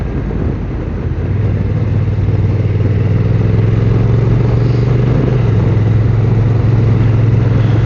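A Honda NT1100 DCT motorcycle's steady engine drone runs throughout, loud and close with wind buffeting, the pitch holding then shifting slightly while cruising on roads in the Grampian Mountain foothills.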